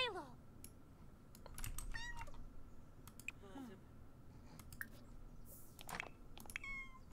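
A cat in The Sims 4 gives several short, bright meows and chirps, scattered among soft clicks over quiet game ambience.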